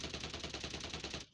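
Rapid automatic gunfire from a mobile shooting video game, a fast steady stream of sharp repeated shots, fairly loud and unbroken for about a second before stopping abruptly.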